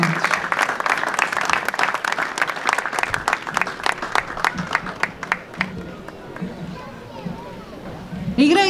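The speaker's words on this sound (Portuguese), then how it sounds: "A quem peço também um aplauso" A crowd applauding warmly at a village festival opening parade, many hands clapping for several seconds before the clapping thins and fades out.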